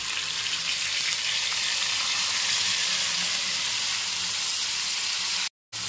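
Hot oil and ingredients sizzle steadily in an iron pan for a village-style Bombay duck chutney with chillies, a dense continuous frying hiss close up that cuts out briefly near the end.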